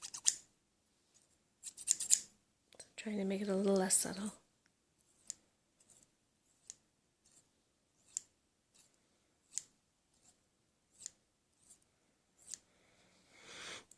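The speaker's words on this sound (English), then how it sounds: "So that's a few minutes of scissors" Crisp scissor snips, a cluster at the start and then single cuts spaced every second or so, close and quiet, with a brief stretch of speech early on.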